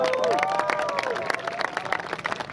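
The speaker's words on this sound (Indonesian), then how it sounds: "Boleh tepuk tangan kawan-kawan." A crowd of students at a protest rally near the Patung Kuda horse statue by Monas applauds, dense scattered clapping mixed with murmuring voices, moderately loud and continuous for a few seconds.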